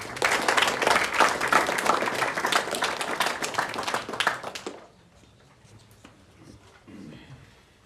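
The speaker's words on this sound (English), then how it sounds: "Let's have another round of applause for all of our winning teams" An awards-ceremony audience applauds the winning school sports teams, a dense, loud wash of clapping that carries for several seconds and then cuts off, leaving a quiet room with faint murmurs.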